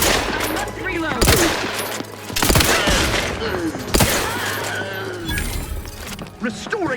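Loud bursts of rapid gunfire from the sci-fi shooter The Outer Worlds 2 crack repeatedly over a humming score, with characters speaking between and under the volleys.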